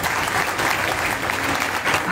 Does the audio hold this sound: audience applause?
yes